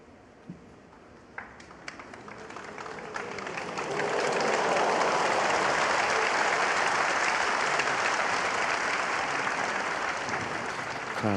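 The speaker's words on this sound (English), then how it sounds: "Crowd appreciating that safety from Judd Trump" Snooker crowd applauding a safety shot by Judd Trump in a Shanghai Masters semifinal, a few scattered claps that swell into sustained, full applause lasting several seconds.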